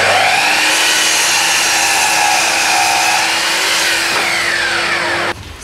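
A power saw whines steadily through wooden slats at close range, cutting them to length for a workbench, a loud continuous buzzing cut that shifts slightly in pitch, then cuts off near the end.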